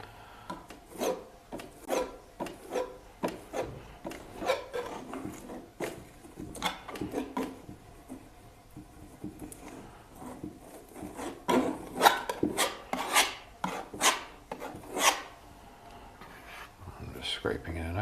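A palette knife scrapes and smears thick paint across a canvas, giving repeated short rasping strokes at close range in an uneven rhythm, with quieter gaps between bursts.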